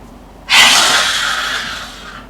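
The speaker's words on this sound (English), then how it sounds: "You're welcome to exhale through your mouth or through your nose" A single forceful breath is released through the mouth during a slow yoga flow, starting suddenly and fading over about two seconds, close and alone.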